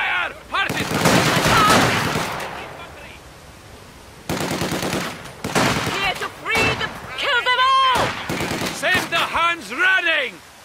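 Combat in Company of Heroes 2: loud bursts of machine-gun and rifle fire mixed with shouted soldier voice lines, the shooting coming in heavy stretches between bursts of speech.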